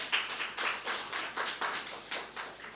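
Sparse, uneven clapping from a small group of hands at a virtual workshop launch, honoring Taiwanese facilitators, fairly faint with distinct individual claps.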